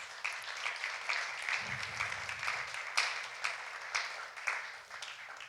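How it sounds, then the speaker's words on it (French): Spontaneous applause from a church congregation after a Sunday service, a steady broadband patter of many hands clapping with small surges, fairly close and continuous throughout, with a brief low murmur partway. "J'allais vous inviter à applaudir,"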